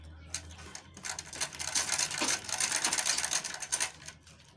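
A sewing machine runs in short bursts while stitching a flex wave bag, a fast mechanical rattle that starts and stops several times at close range with no talk over it.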